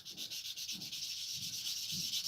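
Sanding a MiG-15 plastic scale model by hand, four slow rhythmic rubbing strokes with a soft scratchy hiss, close and fairly quiet, with no talking.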